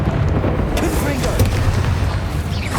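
Confringo blasting spell going off in the Hogwarts Legacy video game, a dense rumbling burst of explosive noise that stays loud and continuous throughout, with sharp cracks layered over a heavy low boom.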